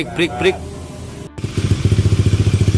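A Honda Beat scooter engine runs after a CVT gearbox repair, settling into a steady, rhythmic pulsing idle close by, after a person speaks briefly at the start.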